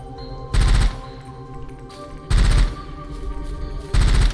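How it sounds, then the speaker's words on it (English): Burst-fire gunshots from the rail gun in the video game Rusted Moss, three loud sharp bursts spaced about a second and a half apart over steady game music. "Now it's just a blast. Or like a burst fire."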